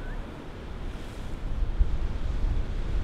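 Surf at Bondi in Australia rushes and rumbles as a steady broadband wash, swelling slightly louder partway through, with wind buffeting the microphone and no voices.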